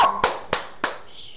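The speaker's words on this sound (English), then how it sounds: "I hurt my hands clapping so hard" Three sharp hand claps ring out about a third of a second apart, close and distinct, after a faint electronic tone at the start.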